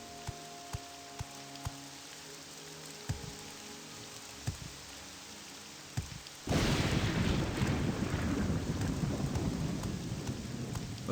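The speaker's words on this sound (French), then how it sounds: "en Morrowind, la pluie, c'est souvent," Rain and thunder from the video game Morrowind: faint scattered clicks and rumbles, then a sudden loud burst of heavy rain that pours on steadily, close and alone, with no voices.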